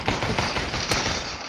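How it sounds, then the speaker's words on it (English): Gunfire in the video game The Outpost comes as a rapid burst of shots, loud and continuous for a moment, with no talk over it. "He's shooting at you."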